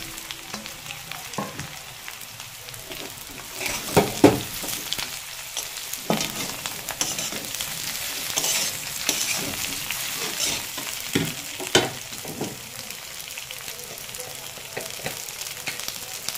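Sliced ridge gourd sizzles in hot oil in a pan alongside already-fried potato, a constant crackling hiss punctuated by scraping stirs and occasional louder clatters of the spatula against the metal, close-up with no talking.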